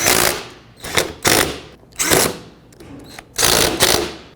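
Bursts of ratcheting, clicking mechanical noise repeat in short runs with brief pauses as the four nuts on a 2001-07 Toyota Sequoia fan clutch are snugged up by hand tool, close and fairly loud.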